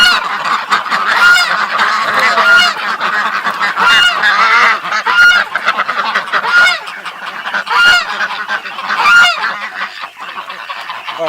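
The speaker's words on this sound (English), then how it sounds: "Alright, ducks." A crowd of backyard ducks, some honking goose-like, call loudly and continuously, overlapping quacks and honks close by with no pause.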